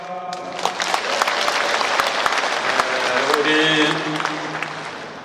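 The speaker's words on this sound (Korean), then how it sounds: "시장님께 무한한 격려의 박수를 부탁드립니다." Audience applause at a city mayor's book launch held in a sports park: a large crowd claps steadily for several seconds while a voice and tonal sounds are heard over it.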